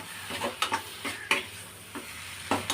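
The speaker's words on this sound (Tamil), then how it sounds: "நம்ம நெய்யில் வதக்கனால நல்லா வதங்கிடும்" Small turkey berries (sundakkai) sautéed in ghee, stirred with a spoon in a series of short, distinct scraping strokes over a soft sizzle, close and fairly quiet, no talk.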